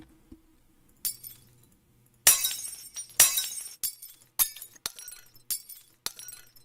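Glass breaking sound effect auditioned for a Roblox fishing game: a series of sharp shattering crashes, the first loud and bright, followed by several shorter tinkling breaks at irregular intervals, alone without talk.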